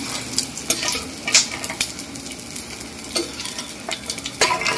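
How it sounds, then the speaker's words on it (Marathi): Edible gum (dink) frying in ghee in a pan over a medium flame, a soft steady sizzle with intermittent stirring scrapes and light clinks of a spoon, close and moderately loud, no voices. "खूप लालसर नाही करायचं आहे डिंक तळून, आणि त्याला मीडियम आचेवरच ठेवायचे."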